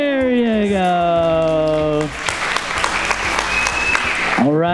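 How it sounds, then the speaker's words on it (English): Wedding guests break into loud applause after the shoe game, a dense burst of clapping that follows a sustained voice, with a few cheers mixed in near the end. "let's have another big round of applause for these two playing the shoe game"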